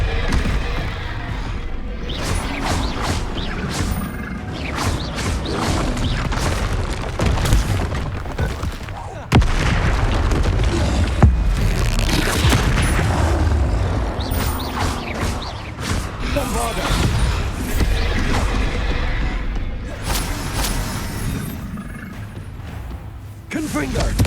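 Repeated magical blast spells, Bombarda and Confringo, in Hogwarts Legacy: a continuous stream of booming explosions and crashes with a sharp heavy hit near the middle, under a voice shouting spell names throughout.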